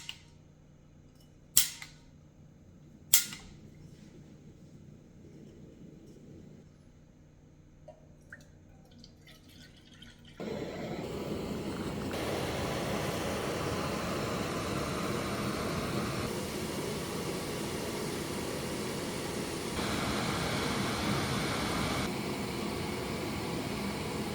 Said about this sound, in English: I'm going to test this out today and see how long it takes to boil 2 cups of water.